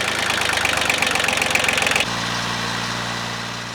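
An old tractor, roughly thirty years old with faulty electrical wiring, runs with a loud, steady engine rumble and rapid knocking pulses that shift abruptly to a smoother, lower idle partway through.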